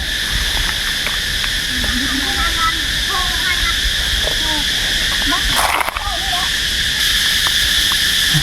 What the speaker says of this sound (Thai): ก็จะมีแต่เสียงแมงจักจั่นเนาะ